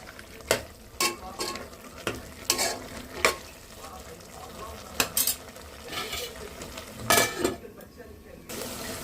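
Tomatoes softening in a pan for Telugu boti curry, a continuous sizzle under repeated sharp clinks and scrapes of a metal spoon against the pan, close and fairly loud.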